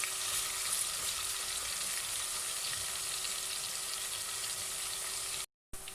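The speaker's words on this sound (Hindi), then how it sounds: "ऑयल हमारा गर्म हो चुका है। अभी इसमें प्याज डाल दें।" Loud, continuous sizzling of onions frying in hot oil, a dense hiss that cuts out briefly near the end.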